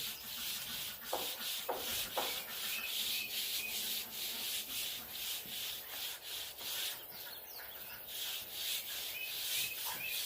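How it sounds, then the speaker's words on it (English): Sandpaper rubs lightly along the grain of a wooden picnic table's finish, a steady rhythmic scratching of back-and-forth strokes, with faint birdsong in the outdoor background. "And lightly sand. You want to go with the grain of the wood now."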